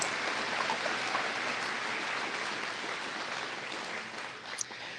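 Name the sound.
applause for Miss Jackson County and her first attendant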